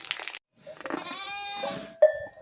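Young lambs bleat in a village barn, several wavering, nasal cries one after another at close range, with short breaks of silence between them.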